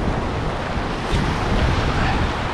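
Surf breaking over a sandbank on an ocean beach, a loud continuous wash of foaming waves mixed with wind buffeting the microphone, no voices.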